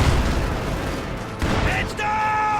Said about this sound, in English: Now taking on here the Maxim machine gun crew.